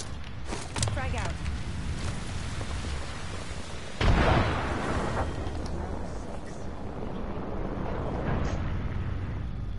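A frag grenade explodes in Apex Legends, one sudden burst partway through with a short rumbling decay, set over continuous battle noise and someone talking.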